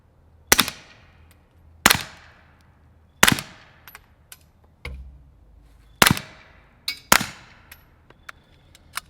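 Five sharp, loud shots from a suppressed CZ Scorpion R9 firing Callaway Ballistic 147-grain rounds, spaced unevenly about a second or more apart, each with a short ringing decay and faint clinks between.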